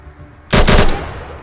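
Automatic firearm in ATOM RPG lets off a loud, close burst of about five rapid shots in half a second, following a quiet lead-in and trailing into a short fading tail.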